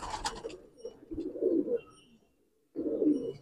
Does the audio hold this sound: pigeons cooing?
yes